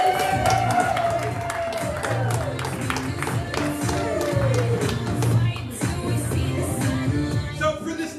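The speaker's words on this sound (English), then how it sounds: "Can we clap for them while they go?" Audience at a live improv comedy show claps and cheers as players leave the stage, a sustained crowd of applause with whoops, while voices and louder sounds stay mixed in throughout.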